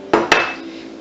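Two quick clinks and scrapes come from stirring melted butter into a dry pumpkin cheesecake crust mix, close and fairly loud, with a short ringing tail.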